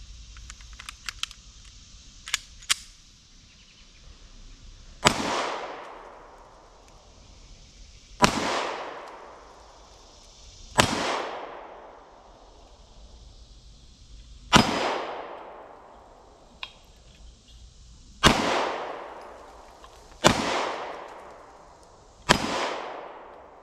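Repeated loud gunshots strike splatter targets set on steel plates at an outdoor target range, seven sharp cracks spaced a few seconds apart, each with a ringing decay, preceded by a few faint clicks.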